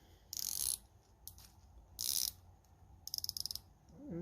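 Bezel of an Aragon Divemaster 2 Abalone dive watch turned in bursts of rapid, fine ratcheting clicks, close and quiet, with a series of distinct single clicks near the end.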